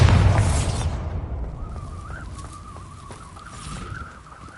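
The Bombarda explosion spell in Hogwarts Legacy: a loud, heavy blast that opens the clip and decays into a long rumbling tail, followed by a thin steady tone and faint ambient sounds.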